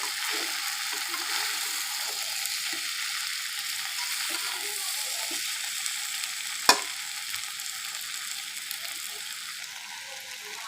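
Jackfruit sautéing with spices in a pan, a continuous soft sizzle close by with faint scraping stirs and one sharp clack midway, no talking.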